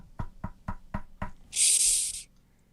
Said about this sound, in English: I guess I'll try to knock again.